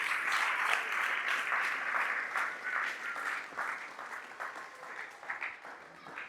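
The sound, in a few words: congregation applause in church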